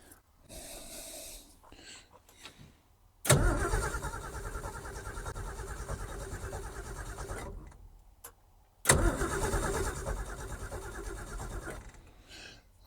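An old car's engine, undriven since 1991 and fed by a weak aftermarket fuel pump, cranks loudly in two long bursts of several seconds each, separated by pauses, without settling into a run, with a bit of quiet talk between attempts.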